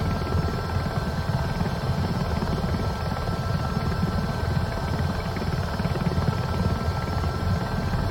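A helicopter in Microsoft Flight Simulator 2024 drones on with a steady, loud rotor and engine roar that holds unbroken throughout, with no voices over it.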